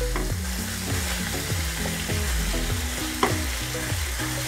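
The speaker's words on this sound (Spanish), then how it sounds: "El chorizo se fríe más o menos unos 5 minutos." Chorizo fries in a pan with a dense, steady sizzle close up, broken by occasional stirring clacks and one sharper knock.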